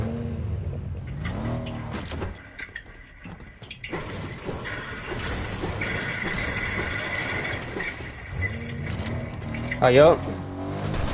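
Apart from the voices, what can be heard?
car in a video game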